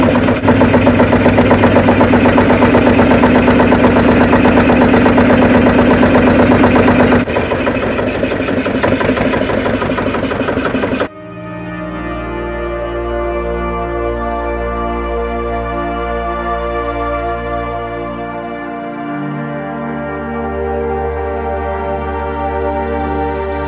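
Motor boat engine on a river crossing from Mulapalem toward Magasani Tippa island, roaring loudly and steadily before cutting out and settling into a lower, evenly throbbing idle that runs to the end.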